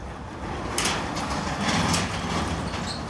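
A garage door opening, heard as a continuous loud rumbling, rattling roll with a few sharper clanks, steady throughout.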